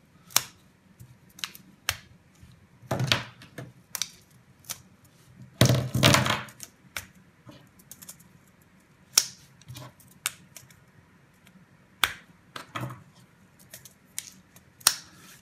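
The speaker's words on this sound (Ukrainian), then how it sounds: "Далі вставляєте набої." 12 gauge shotgun shells being pressed into a sport shell holder, giving a series of sharp close clicks and thunks spaced irregularly against near silence.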